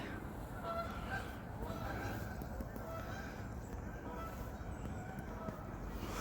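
Geese honk faintly at a distance over a steady outdoor rumble, a few scattered calls rather than a loud flock.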